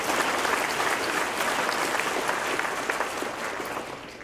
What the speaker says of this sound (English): let's give Haley a big round of applause